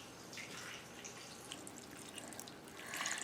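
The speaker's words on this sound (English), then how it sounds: "Make sure y'all pour this over all the meatballs" Canned beef broth poured over meatballs in a crockpot makes a soft, steady trickling and splashing of liquid, fairly faint and unbroken, with no voices.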